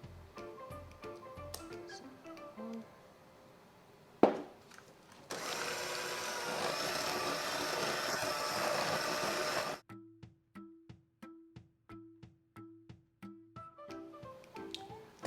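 An electric mixer beats eggs into butter and sugar in a loud, steady whirring burst of about four seconds, set between quieter intermittent clicking and tapping.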